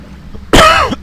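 One sharp, loud cough lands right on a microphone, a brief harsh burst lasting under half a second.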